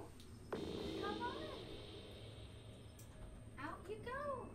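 A house cat meows several times to be let outside, drawn-out rising and falling cries near the microphone, with a sharp knock at the start and a person talking softly between the calls.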